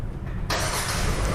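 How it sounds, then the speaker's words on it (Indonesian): A Hyundai Stargazer Prime engine starting remotely from the key fob: a low idle rumble swells into a loud, broad engine roar about halfway through and holds steady nearby. "di mobil ini kita bisa nyalakan mesin dari jarak jauh menggunakan kunci remote-nya"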